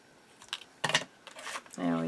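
Scissors cutting decorative paper while making a journal and mini album, a few short crisp snips and rustles close by, followed by a brief tonal sound at the end.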